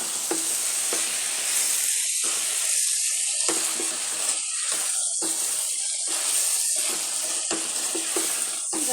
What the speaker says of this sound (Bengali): আলু দিয়ে করলা ভাজি করতেছি